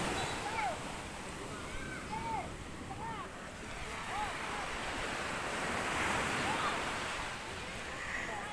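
Sea waves crash continuously on a shore, a steady broad wash of surf mixed with wind buffeting the microphone, loud and close throughout.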